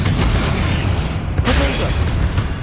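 A Confringo spell explosion in Hogwarts Legacy erupts as a loud, continuous booming burst with a sharp flare midway, dense and close over game sound.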